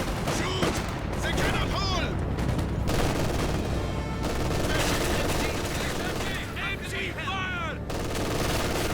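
An MG42 machine gun rattling away in the Company of Heroes 2 strategy game, steady rapid bursts layered with other gunfire and battle noise, with brief voiced unit callouts mixed in.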